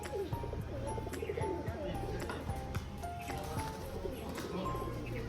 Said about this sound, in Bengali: দেখো বাজি, দেখো পায়রা